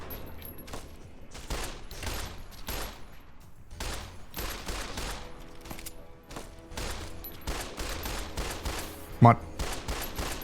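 Rapid gunfire in Fallout: New Vegas, with dense bursts of automatic shots and scattered single reports repeating throughout, plus one sharp louder crack near the end; someone talks briefly over the shooting.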